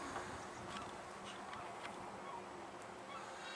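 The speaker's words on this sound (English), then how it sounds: "You see the bee?" A bee buzzing near flowers on a summer tour in Sechelt, a faint, wavering insect drone over outdoor background noise, heard alone without talk.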